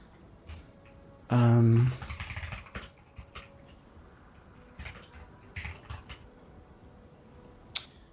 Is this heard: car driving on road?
no